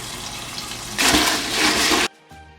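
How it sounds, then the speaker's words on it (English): Dried sorrel is rinsed under running tap water, a steady close splashing rush that swells midway and then cuts off abruptly near the end, with no speech. "So the first thing you want to do, you want to wash the sorrel."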